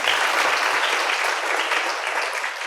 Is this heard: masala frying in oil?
no